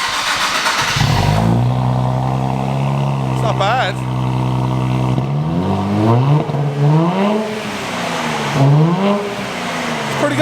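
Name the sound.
Nissan Z twin turbo engine revving, back box deleted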